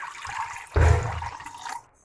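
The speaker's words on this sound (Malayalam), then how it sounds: "ഇനി ഇതിലേക്ക് നമുക്കൊരു മുക്കാൽ കപ്പോളം വെള്ളം ഒഴിച്ചു കൊടുക്കാം" Water poured into blended amla juice in a vessel, a brief gushing splash that swells suddenly, runs for about a second, then fades to quiet.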